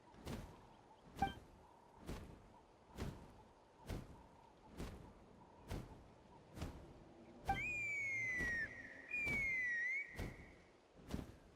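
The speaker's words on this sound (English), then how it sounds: "That sounded like a whistle." A sustained whistle sounds twice in the video game Genshin Impact, each note long and steady, over a steady thumping beat that runs throughout.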